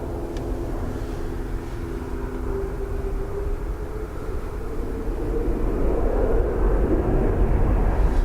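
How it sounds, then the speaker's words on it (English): Airbus A330 thrust reversers roar at Dublin Airport, a steady broadband jet rumble that swells louder over the last few seconds, heard from a distance with no talking. "Sounds like a 330 reversers on the north side, or south side"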